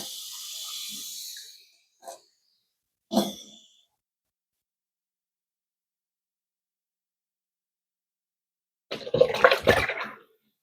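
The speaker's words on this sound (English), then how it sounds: "And I'm going to give it another bottle full of water." A bottle filling with running water from a tap, a steady hiss lasting under two seconds, then brief knocks and a later burst of vigorous sloshing as the water is shaken around.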